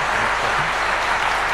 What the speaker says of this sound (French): Je vais demander quelques applaudissements supplémentaires.